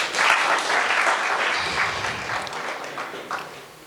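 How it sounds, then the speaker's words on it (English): A round of applause from the audience at a national human development report launch, strong at first and gradually tapering off, with no voices over it. "I think that deserves a round of applause."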